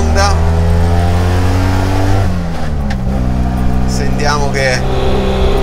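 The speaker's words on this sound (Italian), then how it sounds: "Sentiamo che il motore inizia a salire." Tuned vintage Fiat 500 with a 700cc engine revving hard uphill in second gear, a loud steady drone rising in pitch, then a brief dip at a shift before climbing again, with someone talking over it.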